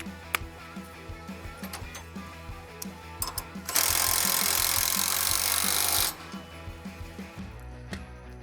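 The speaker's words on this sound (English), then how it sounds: "we're gonna go ahead and tighten that one back down just so it's on there" A bolt on a Polaris Xpedition suspension is tightened down with a ratcheting tool, making a run of quick clicks and scrapes close up. A louder steady whirring burst sits in the middle, and nobody speaks.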